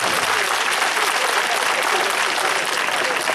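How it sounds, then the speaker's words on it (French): An audience at a political rally in Lomé, Togo, applauds in a dense, continuous roar of clapping that stays loud and even from start to finish. "Il faut vous applaudir vous-même pour avoir réussi."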